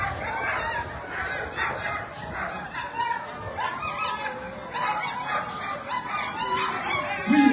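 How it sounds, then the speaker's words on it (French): Many sled dogs barking and yelping together at the start of a stage of a long-distance sled dog race at La Toussuire, a dense, continuous chorus of close and distant barks with voices talking underneath. "coupe la musique, on entend les chiens."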